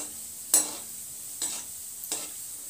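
Gulab jamun fry in a pan over a medium flame under a soft, steady sizzle, broken by three separate scraping stirs spaced about a second apart.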